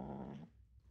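Kitten growling while guarding a toy bunny, a low, rough sustained growl close up that cuts off abruptly halfway through, leaving quiet.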